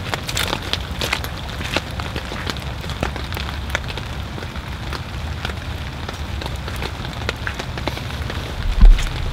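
Steady patter of rain drumming on a taut tarp shelter overhead, with scattered sharper drops tapping through a constant wash; no voices.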